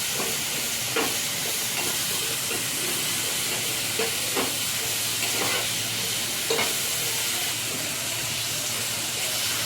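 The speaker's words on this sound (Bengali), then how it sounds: "সবজিগুলো একটু ভাজা ভাজা হয়ে আসলে তারপর আমি এর মধ্যে দিয়ে দেবো জল" Vegetables sizzle and hiss steadily in a hot pan, with a few soft clanks of stirring breaking the constant frying sound.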